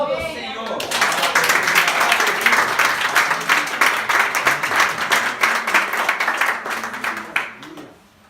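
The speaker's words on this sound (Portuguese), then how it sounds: "Aplauda o Senhor" A church congregation breaks into loud, sustained applause, many hands clapping at close range for several seconds before tapering off, with voices calling out faintly beneath the clapping.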